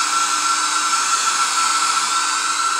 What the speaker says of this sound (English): So what we're doing now is we're just trying to help it along by drying using a blow dryer.